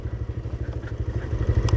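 TVS Raider 125 motorcycle engine running while riding, a steady low pulsing thrum with rapid even firing beats that swell slightly louder toward the end, close and alone with no talk.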